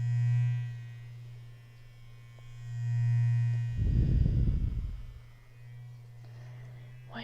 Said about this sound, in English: This is a face scrubber meant for washing your face.